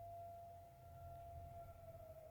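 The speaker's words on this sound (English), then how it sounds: "I don't know if you hear that siren in the background" A siren from a nearby fire station wails steadily in the background, a sustained tone that is moderately loud and continuous throughout, with a low rumble of ambient noise beneath and no one talking.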